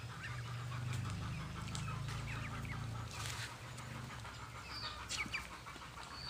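Scattered clucks and honk-like calls from fowl over a constant low hum and outdoor background, moderately distant with irregular timing.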